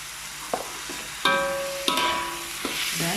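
Grated coconut is stir-fried in a pan, with a steady sizzle broken by about five sharp spatula scrapes and stirs against the metal. It sounds close and clear, with no talking.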